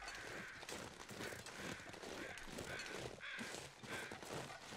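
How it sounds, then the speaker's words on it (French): Crows cawing in the survival video game The Long Dark, repeated harsh caws spread over a few seconds, faint and somewhat distant against a cold wind-like background, with no talk. "Corbeau un peu à droite à gauche."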